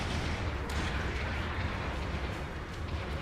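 Cannon fire in the mech combat game Gundam Battle Operation 2: a dense, rumbling barrage of booms and explosions over constant battle noise, heavy and sustained with no clear breaks.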